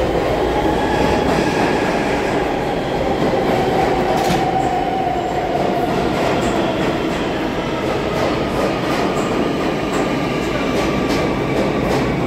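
A New York City subway train rumbles steadily throughout, loud and close, with a continuous rolling roar and a faint high squeal of wheels on the rails.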